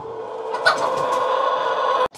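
A hen gives a low, drawn-out warning growl close to the microphone. The sound is a rough, sustained purr lasting about two seconds, with a few faint clucks and no talking.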